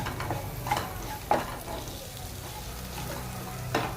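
Boiled, cut potatoes go into a frying pan of cooked peas with turmeric for sabudana khichdi, bringing a soft, continuous sizzle with a few scraping stirs close by.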